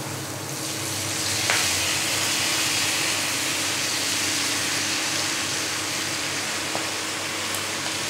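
Moringa greens sizzle and fry in a hot pan, a continuous bright hiss that holds steady throughout with faint clinks of stirring.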